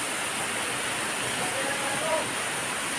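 The waterfall at Munay Falls in Boljoon, Cebu, gives a steady, dense roar of rushing, splashing water that fills the scene without letup.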